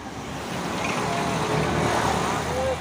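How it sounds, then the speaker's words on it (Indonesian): A convoy of Hino CPO tanker trucks rolls along the road, a steady low engine rumble and tyre roar that builds slightly and holds, with faint voices in the background. "Pasukan truk tangki CPO."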